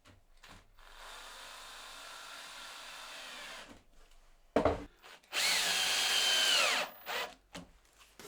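A power drill drives screws to fasten a wooden board onto a vise, with a short whine, a pause, then a louder sustained burst of drilling with rising pitch, close up.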